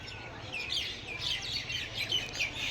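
Many birds twitter and chirp continuously over a steady background hiss, a busy chorus that sounds somewhat distant.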